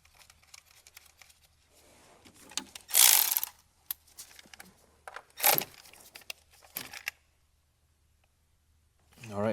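A ratchet snugs the small hold-down bolt on a new engine sensor of a Hyundai Elantra, giving scattered short metallic clicks and a couple of louder scraping bursts close up, separated by quiet gaps.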